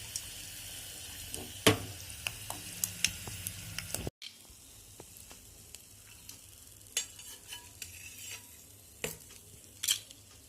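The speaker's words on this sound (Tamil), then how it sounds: "நம்ம காய வச்சு வச்சுருக்கிற அந்த கோவக்காய் வற்றலை போட்டு வறுக்கணும்." Dried ivy gourd (kovakkai vathal) fries in hot oil in a pan with a soft continuous sizzle, punctuated by scattered sharp clicks and scrapes as it is stirred.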